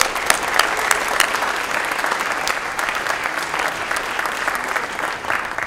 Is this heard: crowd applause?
yes